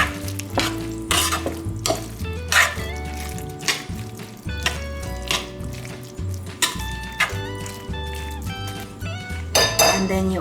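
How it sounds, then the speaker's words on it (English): Guacamole being mixed with chopped tomato in a bowl, a utensil repeatedly scraping and clinking against the dish in uneven strokes, with steady background music underneath. "Give it a mix."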